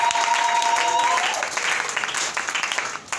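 A church congregation at a Sunday service applauds for the Lord with sustained, dense clapping that holds steady and gradually thins toward the end, a faint tone audible at the start.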